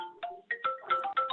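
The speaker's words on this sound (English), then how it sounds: "You hear this phone also?" A phone rings during a lecture in a quiet room, a bright electronic ringtone repeating in short tonal bursts that step between pitches, loud and close with no talk over it.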